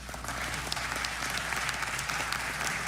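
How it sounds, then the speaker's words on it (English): Applause from a crowd at a subcommittee hearing, steady clapping sustained at moderate distance throughout with no talk. "They're actually clapping this time, too."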